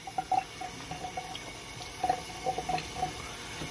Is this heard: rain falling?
no